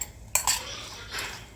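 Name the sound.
stirring squid filling with a utensil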